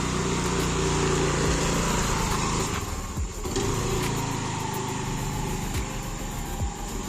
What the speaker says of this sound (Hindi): आज मम्मी का मन हो गया स्कूटी चलाने का